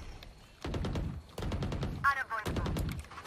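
Valorant gunfire crackles in several sharp, closely spaced bursts of rapid shots, loud and near, with short pauses between volleys.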